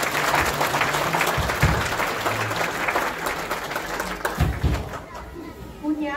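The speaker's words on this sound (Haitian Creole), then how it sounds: "Et la main de l'Assemblée a pu applaudir les visiteurs." A church congregation claps for visiting guests at a service, a dense and loud round of applause that holds steady for several seconds before easing slightly, with voices mixed underneath.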